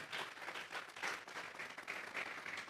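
A church congregation claps together during a worship service, steady dense applause from many hands filling the room throughout, with no speech over it.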